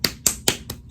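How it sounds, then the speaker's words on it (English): Four or five sharp hand claps sound close and crisp in a steady, evenly spaced rhythm, each a brief distinct smack with nothing else around it. "let's just give her a round of applause"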